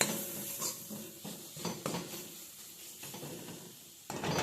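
A utensil clatters and scrapes against a pan as spices are mixed into ivy gourd curry, with a low sizzle underneath and a sharper clank at the close.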